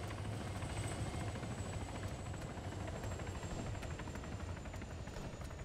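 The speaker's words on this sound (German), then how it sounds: "Der Heli, Alter." A video-game helicopter thunders steadily overhead, a dense continuous rotor roar with rapid chopping pulses and a faint high whine, heard alone at close range for several seconds.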